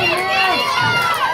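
A wrestling event crowd shouts and jeers in a dense, continuous roar of overlapping voices, close and loud throughout the short stretch.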